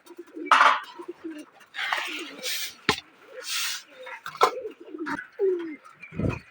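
Domestic pigeons coo in low, soft murmurs among scattered clatters, rustles and flutter-like bursts, fairly close and uneven in rhythm, while eating paddy grain.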